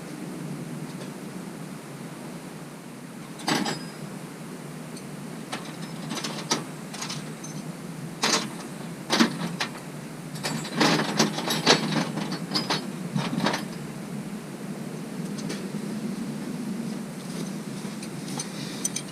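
Wrenches work loose the three starter bolts on a 1940s BF Avery Model V tractor. Close metallic clinks and ratcheting clicks come in scattered bursts, louder in the middle, over a steady background hiss.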